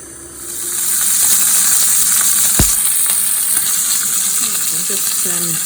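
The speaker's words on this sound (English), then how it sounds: "Glazing our pork joint for tonight's dinner." A pork joint being glazed in a pan gives a steady, loud sizzle with a hiss of steam that carries on without a break, and a few faint clinks sound near the end.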